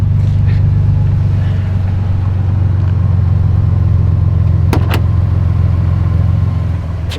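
A right-hand-drive twin-turbo Toyota Supra MK4 idles steadily with a smooth, low, even hum close by, broken only by a couple of brief sharp clicks near the end.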